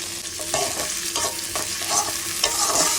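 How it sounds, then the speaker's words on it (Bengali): Green chilies and chopped onion fry in hot oil in a wok, a steady close sizzle broken by rhythmic scraping strokes of a spatula stirring them, with no voices. "এখন এই তেলের মধ্যে দিব হচ্ছে কাঁচা মরিচ আর পেঁয়াজ কুচি।"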